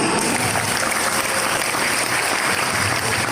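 Dense audience clapping at a religious talk, a brief continuous wash of applause heard at steady loudness.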